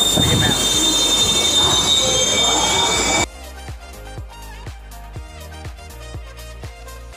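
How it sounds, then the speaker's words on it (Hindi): A passenger train arrives at a crowded Indian station, a loud rumble with screeching wheels for about three seconds before it cuts abruptly to a quieter, rhythmic sound. "यहाँ एक ट्रेन आ गई है"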